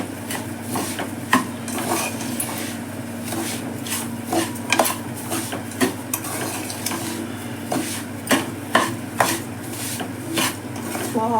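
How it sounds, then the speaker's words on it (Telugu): Roasted jowar semolina in ghee being stirred in a pan for a pongal, with repeated metal spoon scrapes and clinks against the pan over a soft background sizzle, no speech. "వేసేసుకొని ఏం చక్క బాగా కలుపుకోవాలి."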